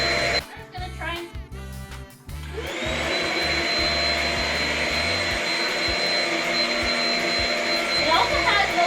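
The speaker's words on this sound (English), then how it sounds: "Now we just finished vacuuming a small portion of the living room" Shark Rocket HV345 corded stick vacuum cleaner with a self-cleaning brushroll, switched on after a few sharp knocks and clatters, then roaring in a loud, steady whine that holds to the end.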